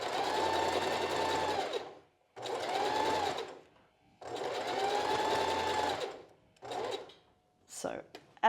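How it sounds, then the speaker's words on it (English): A sewing machine sews a zigzag stitch along a fabric edge while making a strapless bra, in three longer close, loud runs of whirring stitches separated by pauses, then two brief spurts. "Now, when we're doing the zigzag stitch"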